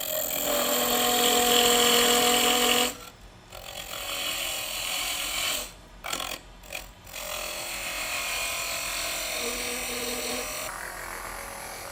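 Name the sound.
wood lathe turning a tenon on birdhouse ornament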